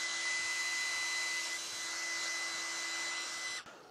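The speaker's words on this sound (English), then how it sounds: "which is why I use a hairdryer." A hair dryer blows with a steady, whining drone for several seconds, then abruptly cuts off.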